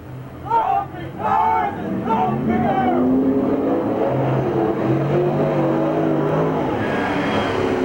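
Race cars accelerate out of turns 3 and 4 at Merced Speedway during the 1989 Stofle Classic, a steady engine drone with rising revs, heard under an announcer's commentary and crowd noise.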